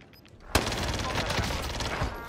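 Video game gunfire in a military shooter erupts suddenly after a quiet start, a dense, loud burst of sustained automatic shots with rapid repeated cracks continuing to the end.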